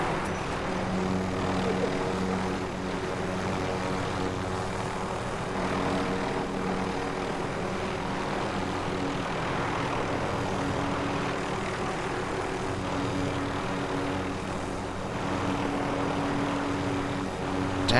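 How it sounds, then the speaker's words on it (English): A helicopter in the Call of Duty Warzone video game flies with a steady, droning rotor and engine roar that continues without letup throughout. "damn, it's hard to drive a helicopter."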